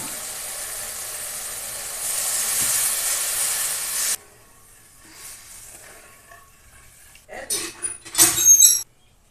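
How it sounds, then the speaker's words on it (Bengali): Water at a rolling boil in a pan over cooked-down mustard and green-chilli masala for hilsa fish curry, giving a steady hiss and sizzle for a few seconds that cuts off abruptly, followed by louder clattering bursts near the end. "দেখো জল ফুটে গেছে"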